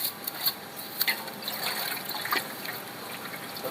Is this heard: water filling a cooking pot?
yes